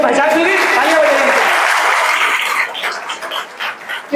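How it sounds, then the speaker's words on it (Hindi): Audience at a motivational talk applauds, with loud dense clapping mixed with voices that thins out into scattered claps toward the end. "जब इनको पहचान मिली, तालियां बजाइए।"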